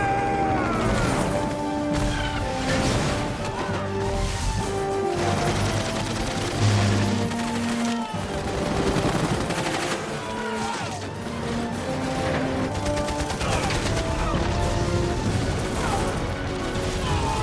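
Heavy battlefield gunfire fills a dense, continuous wall of noise, crackling volleys and crashes layered over a loud orchestral score with no pause throughout.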